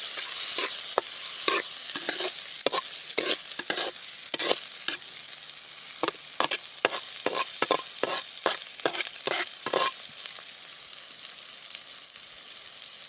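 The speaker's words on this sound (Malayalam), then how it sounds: "അതവിടെ ഇരുന്ന് നന്നായിട്ടൊന്ന് വഴണ്ട് വരണം." Sliced onions sauté in a frying pan for a Kerala fish curry, a constant hiss of frying broken by frequent sharp scrapes and taps of a spoon stirring, close and fairly loud, with no talking.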